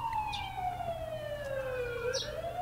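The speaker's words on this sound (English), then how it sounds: "The ambulance just left." An ambulance siren in The Coma: Recut wails with a single falling tone that glides steadily downward as the vehicle pulls away, fairly clear over a low rumbling background, with no talk.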